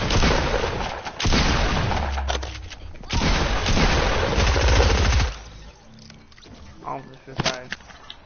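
Rapid Fortnite gunfire rattles in loud bursts of automatic shots and booms, with a player's voice talking over parts of the shooting.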